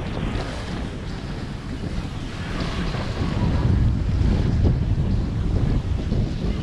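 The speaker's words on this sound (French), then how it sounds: "il y a toujours du vent." Wind blowing on a sailboat near Gibraltar, a strong, steady rushing roar buffeting the microphone, with no talk.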